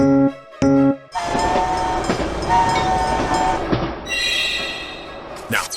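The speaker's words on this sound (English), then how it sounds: "Hear that? The train is coming." A red toy train rolls in with a short horn toot, then a rattling clickety-clack of wheels that stays close and loud for several seconds before a brief chime.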